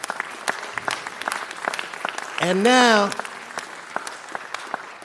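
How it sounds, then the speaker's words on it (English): Applause at a city council meeting fills the room with a steady crackle of many hands, while a speaker's voice rises briefly over it midway. "Let's give one more round of applause."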